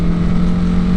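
Honda CB 300R motorcycle engine running steadily, a loud continuous low drone with a strong tonal hum throughout, no talk.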